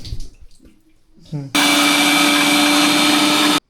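A kitchen mixer grinder grinding spice masala switches on after a short stretch of talk and runs as a loud, steady, high-pitched motor whine for about two seconds before stopping abruptly.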